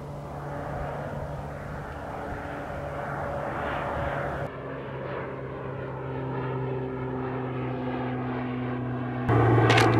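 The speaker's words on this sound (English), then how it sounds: "That airplane there, I don't know if you guys probably can't see it, that's taking skydivers up right now." A propeller airplane carrying skydivers up drones steadily overhead on a links golf course, a constant engine hum for several seconds, with a sudden louder burst near the end.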